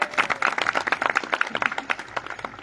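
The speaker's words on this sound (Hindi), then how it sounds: "तालियां बजाइए" An audience at a gathering in Udaipur breaks into applause, a dense burst of many hands clapping fairly close by for a couple of seconds.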